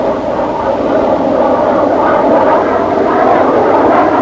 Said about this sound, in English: First, a fast roll, which, with the aid of the power boost ailerons, the big Banshee performs with all the ease and grace of a smaller plane.